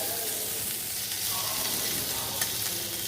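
Food frying in a pan with a constant bright sizzle, a spatula stirring and scraping through it, close and fairly loud.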